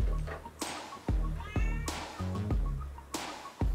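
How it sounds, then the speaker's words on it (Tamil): A kitten sits under a kitchen stove and meows repeatedly in short, insistent calls spaced about half a second apart, close and clear, with no talk over it. "அப்படியே அடுப்பு கீழே கொஞ்சம் பார்த்தீங்கன்னாக்க, எங்கள் வீட்டு செல்ல பிராணி மயில் உட்காந்துருக்கு, பூனைக்குட்டி"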